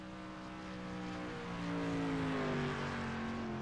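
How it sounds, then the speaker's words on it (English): Race cars lapping at Knoxville, Iowa in a sim racing game, a faint distant engine whine whose pitch slowly falls and swells as the cars pass, growing a little louder midway. "Got quite a few cars in attendance right now as everybody begins to turn in some laps"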